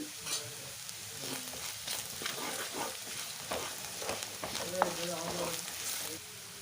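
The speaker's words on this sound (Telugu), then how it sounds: "ఆనియన్ కూడా వేసుకొని అయితే మంచిగా ఆయిల్లో అయితే వేయించుకోవాలి" Onions fry in oil in a pan for a ladies finger and peanut dish, giving a soft, steady sizzle with occasional stirring scrapes, fairly quiet and close, with no talking.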